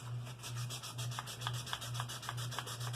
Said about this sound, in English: And it's just sanding.